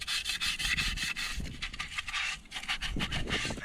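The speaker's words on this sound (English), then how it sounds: "Got my crafty Scotch pad right here." A Scotch pad scrubs a 2014 Ford Focus transmission case in quick back-and-forth strokes, a close, rough rasping rub with short pauses between strokes and no talk.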